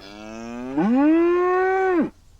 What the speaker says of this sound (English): They were still mooing and chewing all over the tracks